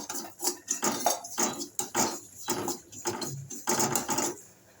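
Bombay rava roasting in ghee in a pan, stirred with a utensil: repeated scraping and clinking strokes at close range, steady and rhythmic, with no voices.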